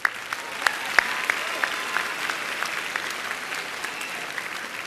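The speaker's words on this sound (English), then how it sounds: "Let's give Christopher one more round of applause." Crowd at a fall college graduation ceremony applauding after the national anthem, a moderate, sustained patter of many hands with a few sharp individual claps standing out.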